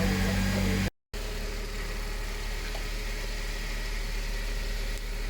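A Honda Jazz fitted with a swapped K-series engine idles steadily, a low, even hum that runs continuously and fairly quietly, broken only by a momentary dropout.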